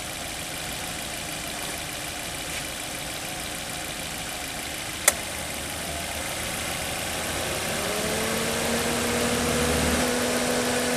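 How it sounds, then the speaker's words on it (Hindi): A car engine idles at a steady, rumbling drone with the air conditioning switched on. A single sharp click comes midway, and the engine pitch then rises and grows a little louder as it works harder. "इंजन की वॉल्यूम बढ़ रही है, क्योंकि इंजन को ज़्यादा पावर जनरेट करनी पड़ रही है"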